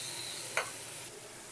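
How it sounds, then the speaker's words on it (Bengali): Pointed gourd (potol) pieces frying in oil over a high gas flame give a steady, even sizzle with one brief louder clink of stirring partway through, no voices. "পটলগুলোও ভালো করে ভেজে নেব গ্যাসের ফ্লেমটা জোরে দিয়ে।"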